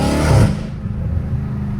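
A catless, supercharged V8 in a Dodge Hellcat Redeye gives a loud, close rev that peaks and then drops to a deep, steady idle rumble at night.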